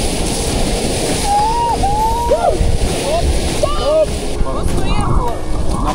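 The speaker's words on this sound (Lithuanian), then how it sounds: "taip lengvai irkluojam, mes čia atrodo, kad dirbam" A rowing boat is paddled across open water, with soft splashing and wind rumble throughout, people talking and whistling nearby.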